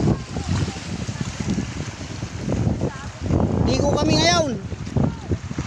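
Wind and sea waves on the shore at Kasitan, a steady broadband wash with gusty buffeting on the microphone, under near and loud voices of several people talking and calling out throughout.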